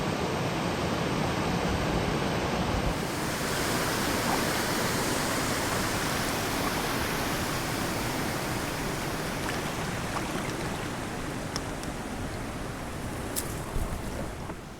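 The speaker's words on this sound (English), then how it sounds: "here's a closer look at the waterfall" A small waterfall pours steadily beside a lake, a dense, even rush of falling water heard up close and alone for the whole stretch, with no voices over it.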